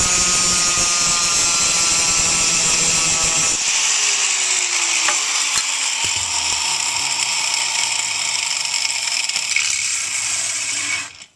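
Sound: angle grinder with cutting disc cutting acrylic headlight cover

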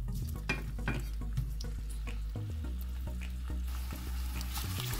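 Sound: boiled potatoes frying and sizzling in hot oil

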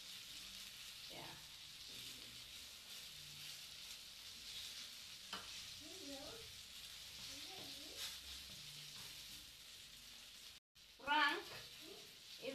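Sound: banana and egg frying in a hot pan

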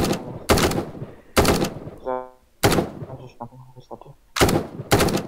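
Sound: gunshots in the video game Roblox PUBG

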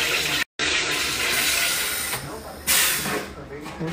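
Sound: sparkling water maker carbonating water

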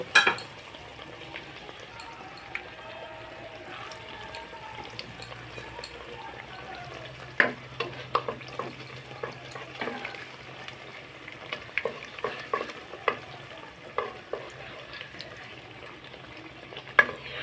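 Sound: eggplant fritters (beguni) frying in oil

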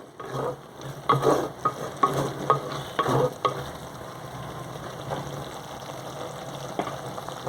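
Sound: stirring mango curry in a pan

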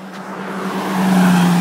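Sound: car passing by on a mountain road

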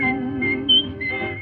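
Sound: whistling in a song

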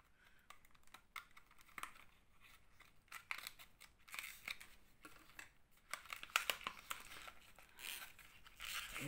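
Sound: scissors cutting open makeup packaging

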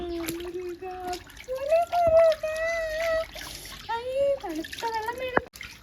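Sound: water splashing, child playing in water

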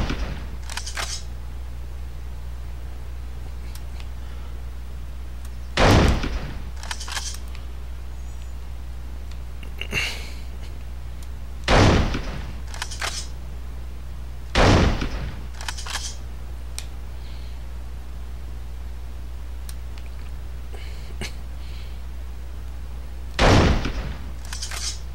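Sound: gunfire shooting snipers in the video game 24: The Game

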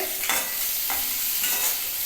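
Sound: onions frying with salt in a pan

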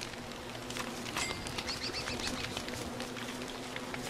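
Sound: bird in the video game Don't Starve Together

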